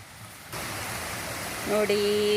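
A river running high after rain, a broad steady rush of water that surges in suddenly and stays loud, with a thin tonal whine rising over it near the end.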